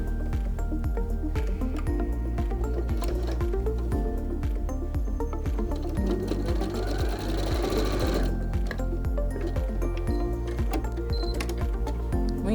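A sewing machine stitches Santaflex fabric in a fast, even mechanical chatter of repeated needle strokes, close and loud, with a brief surge in intensity midway.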